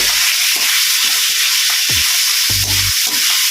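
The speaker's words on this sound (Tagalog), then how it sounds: "Gigisa-gisa natin." Ingredients for pinakbet sautéing in a pan, a loud close steady frying sizzle with occasional scraping stirs and clinks of a utensil against the pan.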